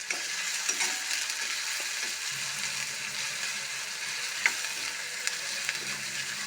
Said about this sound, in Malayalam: സവാള ചെറുതായി ഒന്ന് വഴറ്റി എടുക്കാം.